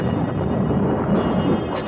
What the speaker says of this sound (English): Thunder crashed outside the house